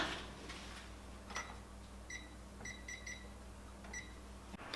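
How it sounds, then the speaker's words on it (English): A kitchen timer beeps in a quiet kitchen after a breakfast quiche goes into the oven: several short bursts of high, clipped beeps, fairly faint against a low background hum. "So now the timer went off"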